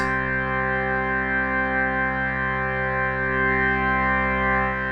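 A big sustained chord held on a Roland Jupiter-8 synthesizer, a rich, steady polyphonic pad with a gently shimmering chorus-like movement, up front and alone for the whole stretch.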